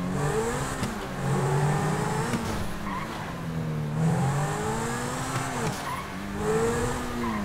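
A car in GTA 5 revs and accelerates hard, engine tones climbing and falling through gear changes, with tire squeal and skidding mixed in, loud and continuous over about seven seconds with no talk.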